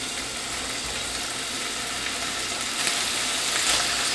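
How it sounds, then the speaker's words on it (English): Sausages frying in a teaspoon of olive oil in a pan for garlic lemon butter pasta, giving a steady, close broadband sizzle with faint crackles throughout. "I'm going to start frying these sausages up."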